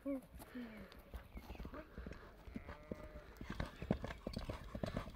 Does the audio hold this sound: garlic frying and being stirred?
no